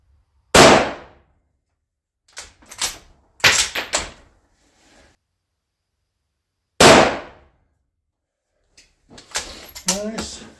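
Two sharp, loud shots from a custom .220 Swift rifle aimed at a pumpkin, heard several seconds apart outdoors, each followed by quiet stretches, with clicks and handling noises between them and a voice speaking briefly near the end.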